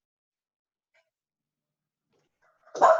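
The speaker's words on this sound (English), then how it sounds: "Someone knocks on my door and dog barks." A dog barks once, loud and close, at the very end of an otherwise silent stretch, with no talking around it.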